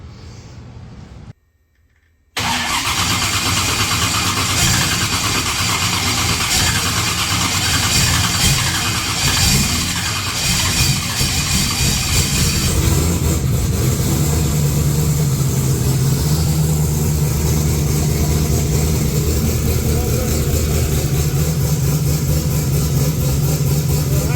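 A car engine starts after a brief silence and then idles steadily, a loud, close, continuous rumble that settles into a lower hum partway through.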